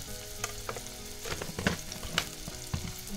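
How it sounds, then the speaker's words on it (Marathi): Turmeric and salt sautéing in a vegetable curry base with dried fish, brinjal and potato, a steady sizzle broken by several scraping stirs of a spoon against the pan, close and moderately loud, no voices. "परत एकदा परतून घेतलं आणि परत एकदा मस्तपैकी सगळं एकजीव करून घ्यायचं।"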